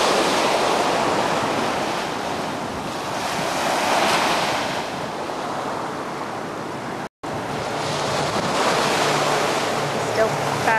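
Ocean waves and surf along a Hawaiian shore, a steady broadband roar with gentle swells in intensity and some wind buffeting the microphone, continuous and fairly loud with no talk.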